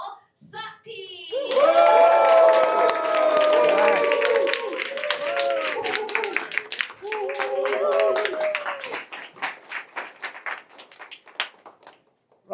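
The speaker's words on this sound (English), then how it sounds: "thank you so much for the round of applause" Audience applause and cheering answer a call for a battle cry at a military-strategy mindset event, a loud burst of clapping and shouts that builds, holds for several seconds, then thins into scattered claps.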